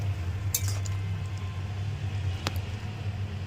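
Bottle gourd with turmeric and green chillies is stirred in a pot, giving a couple of brief metallic clinks over a steady low kitchen hum.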